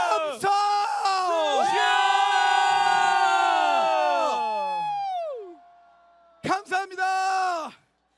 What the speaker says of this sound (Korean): 전체 함성.